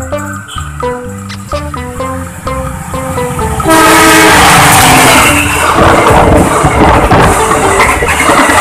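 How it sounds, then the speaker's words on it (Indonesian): A CC206 diesel locomotive passes close to the railway line beside a road, its horn blaring in repeated blasts before a loud, continuous roar of the train rushing by. "Coba lihat, itu kereta apinya dari arah sana nih."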